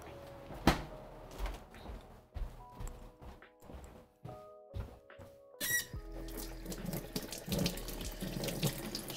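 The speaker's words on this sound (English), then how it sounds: "Now I'll wash my hands." Hands being washed under a running kitchen tap, water splashing steadily and close, with a cupboard knock and a clatter in the middle before the flow swells again; no talking.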